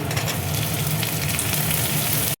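Cubed onion tipped into a hot frying pan, giving a loud, steady close-up sizzle that carries unbroken for a couple of seconds before stopping abruptly.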